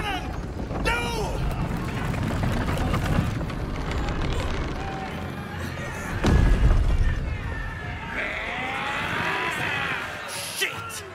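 A heavy booming cannon blast in Baldur's Gate 3 lands mid-battle, amid dense game sound effects, music and shouted voices.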